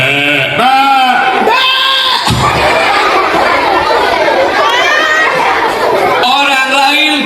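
A crowd of voices at an elementary school storytelling session imitates goats, with wavering bleats and calls overlapping in loud, lively chatter.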